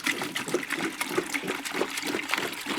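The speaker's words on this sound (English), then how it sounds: "We'll put some water in a bucket here." Water pours into a bucket while fluorite pieces are set to soak for polishing, a steady splashing, gurgling flow heard close and fairly loud throughout, with no talking.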